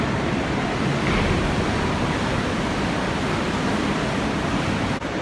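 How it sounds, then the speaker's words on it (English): Sewer water of Paris pouring underneath a dredging boat, a steady loud rushing roar of water, continuous and unbroken throughout, with no voices. "this is all the sewer water of Paris just pouring underneath it"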